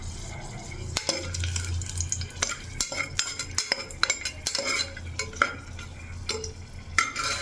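Whole spices (biryani flower, bay leaf and cinnamon) being stirred in hot oil for a mutton curry, with repeated scraping clinks of a spoon against the pan over a steady low sizzle, close and alone without talk.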